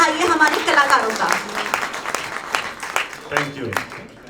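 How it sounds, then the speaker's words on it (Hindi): Applause from an audience at a book release ceremony, steady crackling claps running throughout and mixed with voices and talk. "एक बार दोबारा जोरदार तालियों से हौसला बढ़ाइए हमारे कलाकारों का।"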